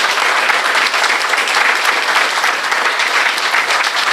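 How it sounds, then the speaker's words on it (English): An audience at a board meeting gives the artists a sustained round of dense applause, steady and fairly loud from start to finish, without spoken words. "stand up again, just for another round of applause"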